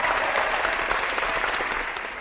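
Steady clapping from a small studio audience on a game show, brisk dense applause throughout that fades slightly at the end, with no talk over it.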